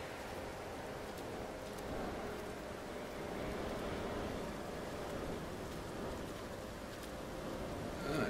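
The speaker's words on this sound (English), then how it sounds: "So it's nice to see some rain." Steady soft rain falling in the video game No Man's Sky, a faint continuous hiss with low rumbling underneath, no voices.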